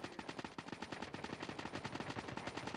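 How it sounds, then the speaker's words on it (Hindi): Rapid, dense gunfire in a video game, with a steady run of sharp shots firing one after another across the whole stretch at close range, loud and continuous with no talk over it. "स्नाइपर चला रहा है"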